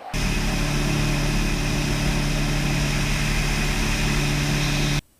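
A Kodiak floatplane in flight, its engine and propeller droning loud and steady from inside the cabin for several seconds, with no talking, before the sound cuts off abruptly at the end.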